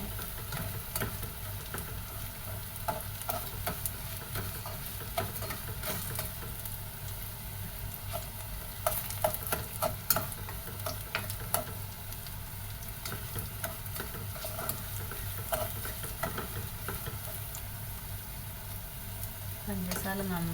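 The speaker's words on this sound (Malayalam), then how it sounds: "പഞ്ചസാര നന്നായിട്ടൊന്ന് കാരമൽ ആവട്ടെ കേട്ടോ." Sugar being stirred as it caramelizes in a pan for a Malabar sweet banana dessert, a continuous soft sizzle with scraping stir strokes throughout, fairly close and steady.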